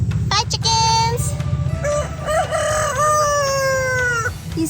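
A rooster crows loudly and close by, and other chickens cluck around it on a farm in Ninh Binh, Vietnam.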